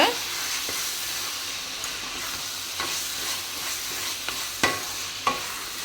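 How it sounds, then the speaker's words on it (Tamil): Fried okra is stirred into a sizzling curry in a pan: a steady frying hiss runs throughout, broken by several sharp scraping strokes of the spoon. "வெண்டைக்காய் சேர்த்துட்டு நல்லா வந்து மிக்ஸ் பண்ணிக்கிறேங்க"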